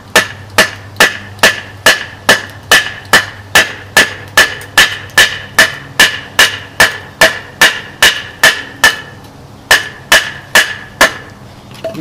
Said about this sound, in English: the hammer end here works pretty well for batoning, because you can really strike that really well